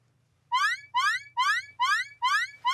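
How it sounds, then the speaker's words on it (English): An alarm sounds from the hub in a children's story: a steady series of about six rising electronic chirps at a brisk, regular pace, loud and alone over a faint low hum. "An alarm? It sounds like it's coming from the hub."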